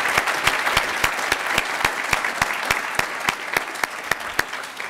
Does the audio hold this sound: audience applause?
yes